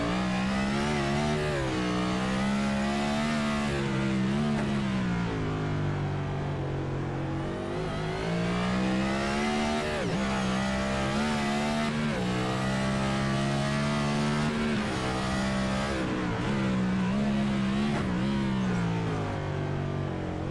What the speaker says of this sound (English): Using the downshift and the engine to slow that car down.